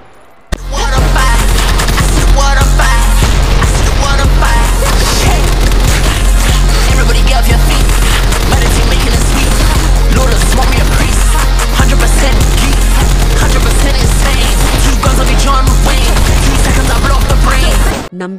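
Mix gun in Combat Master firing in long, loud, continuous bursts of rapid shots, dense and unbroken for nearly the whole stretch, with no talk.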